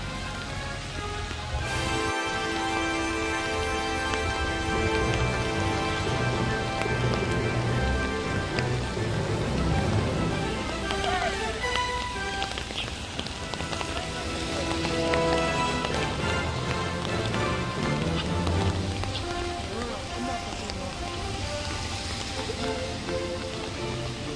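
Steady rain falls on a rainy day at a cherry-blossom spot in Jinhae, a continuous wash of patter running the whole time beneath a layer of tonal background sound.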